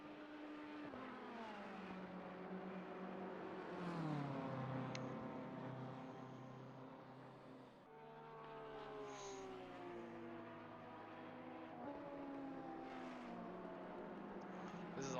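GT3 race car engines at Watkins Glen in Assetto Corsa Competizione, including a BMW and a Red Bull Ferrari, roar loudly and continuously as they shift through gears and sweep uphill, with rising and falling engine pitch and no talk.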